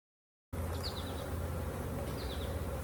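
Honey bees buzz in a steady, dense drone around an opened hive during inspection while honey frames are cleared, starting abruptly after a short silence, with faint high chirps twice over the hum.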